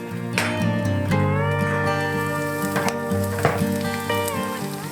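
Corned beef and an egg frying together in a single pan give a steady close sizzle with light crackles, sitting under a sustained tonal background throughout.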